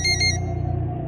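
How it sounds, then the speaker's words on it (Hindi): A phone rings in a quiet room: a short bright electronic ring pulses a few times at the start, then cuts off, leaving a low steady hum. "पुष्कर का फोन बजा"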